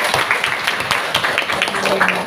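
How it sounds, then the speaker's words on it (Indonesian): Teachers clapping together at a teachers' working-group workshop, a short burst of brisk, uneven applause in a room, with voices faintly mixed in. "Ya, tepuk tangan untuk kita semua."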